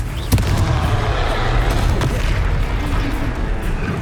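A Confringo spell explosion in the Hogwarts Legacy video game, one sharp booming blast early on that rolls into a continuous loud rumble of battle noise.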